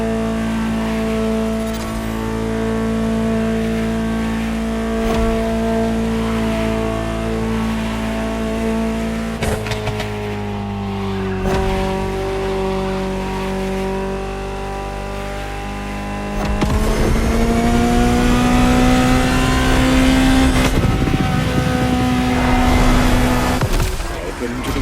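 A powerful Ferrari supercar engine in a racing video game revs up and down through rising gear-like sweeps, growing louder and harsher in the later half, with a continuous close roar.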